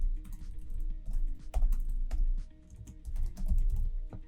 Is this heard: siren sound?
no